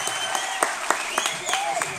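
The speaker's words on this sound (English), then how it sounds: "Give him one more round of applause, please." Applause from an audience at a Saturday event in Denver, scattered sharp claps over a blend of voices and cheering that keeps going through the brief moment.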